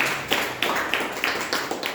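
At a Toastmasters club meeting, a handful of people clap in sparse, evenly spaced beats, like a thin round of applause heard up close, with no talk.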